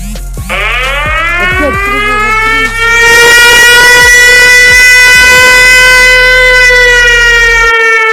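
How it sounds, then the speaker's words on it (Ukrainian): A loud air raid alert siren wails in Ukraine, winding up from a low pitch to a sustained, piercing tone that dominates everything, with a deep rumble beneath. "Увага! Повітряна тривога."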